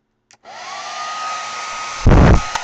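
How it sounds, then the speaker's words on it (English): A hair dryer on its low setting whirs steadily at a moderate level after a brief click, then a louder blast of air bursts in near the end. "This is a hairdryer, of course."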